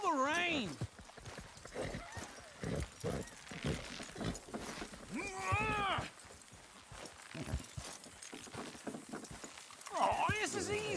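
Rhythmic hoof clops from a horse in Red Dead Redemption 2 under steady talking, with a brief whinny-like call at times; moderately loud and close.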